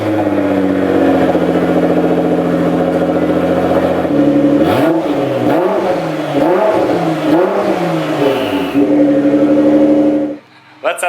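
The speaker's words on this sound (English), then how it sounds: "let's get a cold start of the car, practically a turbo dump at this point" A Nissan GT-R engine cold-starts and settles into a loud, steady idle, then revs up and down in several surging blips with turbo sounds before falling back to idle and cutting off.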